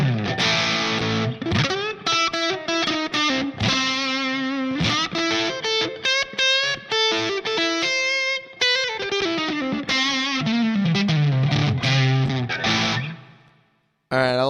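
Electric guitar through a Line 6 POD HD500 Plexi Lead model of a Marshall Super Lead 100 normal channel, sag at 100: loud, driven lead playing with bends and chordal riffs, continuous with brief gaps, fading out near the end.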